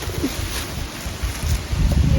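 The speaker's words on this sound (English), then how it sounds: "It's super windy out here." Strong outdoor wind gusting steadily across a garden, a broad rushing roar that swells louder toward the end, with no voices.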